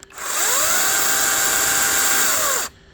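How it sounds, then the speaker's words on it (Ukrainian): A new cordless battery chainsaw with its chain brake released spins up, holds a loud, steady high-pitched whine for about two seconds, then winds down quickly, heard close and alone. "Коротше, дивіться, щоб пилка робила."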